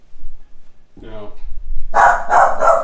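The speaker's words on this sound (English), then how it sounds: "So that's my dog barking." A dog barks in three quick, loud, close bursts near the end, following a brief low voice-like sound.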